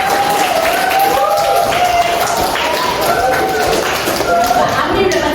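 Classroom of students clapping for a classmate named Jaya, a steady patter of many small hands with a teacher's and children's voices running over it throughout.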